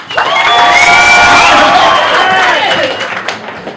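A comedy club audience claps and cheers loudly in a dense, sustained burst with scattered shouts, tapering off near the end.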